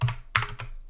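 Three quick keystrokes on a computer keyboard while entering a chmod command in a terminal, crisp, close clicks with no talk.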